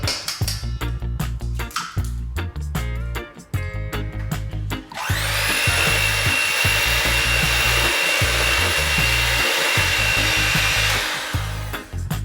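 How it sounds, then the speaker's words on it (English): Egg being mixed into Jamaican chocolate chip plantain bread batter with a steady, whirring motor drone that swells louder and fuller partway through and runs continuously to the end, close up with no speech. "next you're gonna mix in 1 egg at a time"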